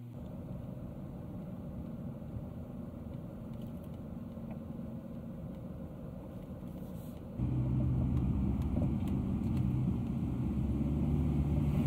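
A car engine drones steadily while driving up the snowy Mount Washington auto road in the White Mountains, a low continuous rumble that gets louder and deeper partway through as the engine works harder.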